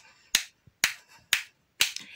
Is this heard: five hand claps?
yes